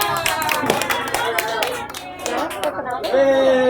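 Clapping from a group at a digital literacy session, scattered hand claps mixed into a loud, busy room, with a voice talking over it and crowd chatter throughout.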